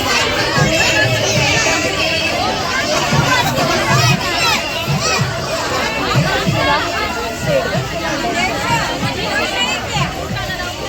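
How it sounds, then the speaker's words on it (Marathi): Dense crowd chatter fills a temple during Navratri, many overlapping voices forming a loud, continuous hubbub with no pauses. "गर्दी खूप आहे खूप म्हणजे प्रचंड गर्दी आहे"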